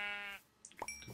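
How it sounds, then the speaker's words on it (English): A black sheep bleats once in the video game Minecraft, a short wavering cry followed by faint rustling. "Oh, black sheep."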